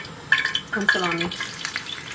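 Salami sizzles in a frying pan while a utensil stirs and scrapes against it, and a person talks over the cooking.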